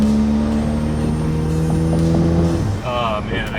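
Turbocharged car engine from a B8 build fitted with a CTS BOSS 500 big turbo, idling close with a steady, droning hum and strong low harmonics, dropping off near the end as the revs change, with a brief voice underneath.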